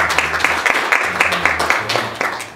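Applause rises in a church council meeting, with brisk, fairly loud hand claps in a steady, slightly uneven rhythm, mixed with a murmur of voices.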